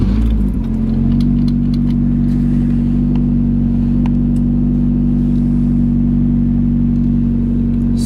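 A Nissan 240SX engine cranks over briefly and catches, then settles into a loud, steady close-up idle with a low droning hum and a few faint clicks.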